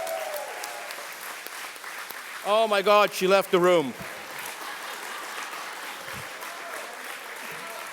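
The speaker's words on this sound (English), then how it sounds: "please join me in a big round of applause for Jamie Cleroux" Applause from an audience at a health leadership awards event in honour of Jamie Cleroux, a steady wash of clapping running beneath someone speaking over it throughout.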